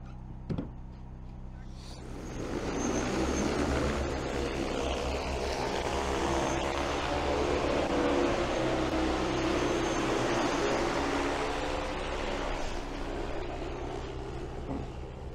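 DJI Agras T30 agricultural spraying drone in flight, a loud sustained rotor drone and buzz after a brief onset, steady throughout.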